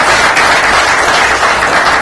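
Audience applause at a business forum Q&A session, a steady dense burst of clapping filling the room, close and loud throughout with no talk.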